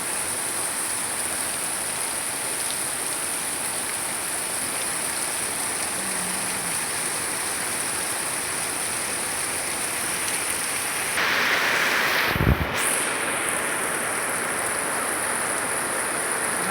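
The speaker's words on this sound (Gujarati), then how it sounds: "ધોધમાર વરસાદ થઈ રહ્યો છે" Heavy monsoon rain pours down steadily in a village in Panchmahal, Gujarat, a dense, even hiss throughout, with one brief louder clatter near the end and no talking.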